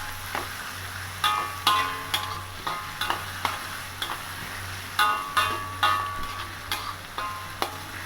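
Vegetarian mutton varuval with ginger, garlic and salt is stirred in a pan, sharp regular spoon clacks and scrapes repeating about every half second over a soft background sizzle and low hum.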